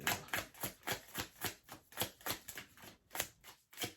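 Tarot cards are shuffled in quick, rhythmic riffles, a run of soft papery bursts up close in a quiet room.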